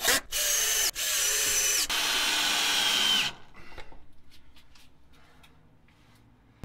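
A power drill drives heavy duty screws into a wall to mount a large battery, whirring loudly in close bursts for about three seconds, then falling to a fading ratcheting rattle with no speech.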